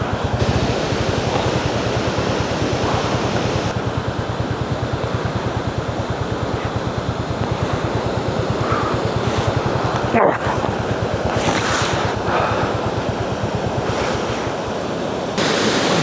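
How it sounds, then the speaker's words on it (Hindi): Rushing waterfall water beside a forest road on a foggy mountain ride between Tawang and Madhuri Lake, a steady loud broadband roar with no breaks, close and continuous throughout. "मैं कुछ नहीं कहना चाहता, just listen to the water noise."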